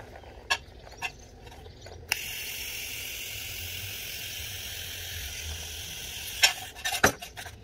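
A TIG welding arc runs along outside corners using a Blue Demon True Flex bendable tungsten electrode, making a steady, fairly faint hiss for several seconds, framed by a few sharp clicks and taps before and after.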